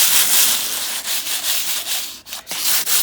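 Continuous close-up rubbing of P320 sandpaper on the painted body of a classic Mini Cooper, in quick repeated back-and-forth strokes with brief pauses.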